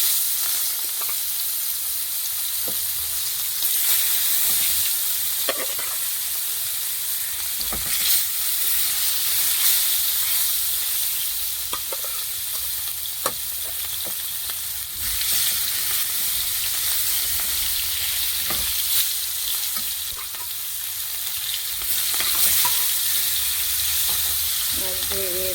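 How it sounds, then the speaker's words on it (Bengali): Fish fries in hot oil in a home kitchen, giving a continuous bright sizzle and hiss that holds steady for the whole stretch, with occasional clicks of a utensil and no talk. "মাছটা ভেজে নেব ভালো করে"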